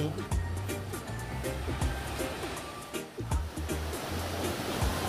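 Waves wash steadily onto a beach in a continuous roar while a person talks over the surf.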